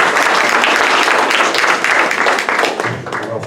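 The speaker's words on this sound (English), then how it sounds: "Tim, a round of applause." A live audience gives a round of applause to a speaker before a talk, dense steady clapping filling the room, loud and close, tapering slightly at the end.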